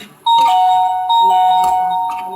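An electronic doorbell chimes twice, clear two-tone ding-dong notes ringing close and loud with a short decay.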